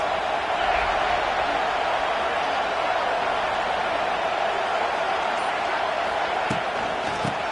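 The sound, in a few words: stadium crowd noise at a football game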